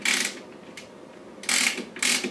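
Festool OF-1400 router with its bit being locked into place, three crisp metallic ratcheting clicks separated by short pauses, close and fairly loud.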